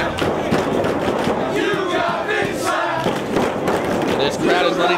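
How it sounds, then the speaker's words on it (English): Loud, dense crowd noise with shouting and roaring voices throughout, a sustained hostile din filling an indoor arena as a pro wrestling crowd jeers a wrestler during a match. "And this crowd is letting Jimmy Rave hear about it."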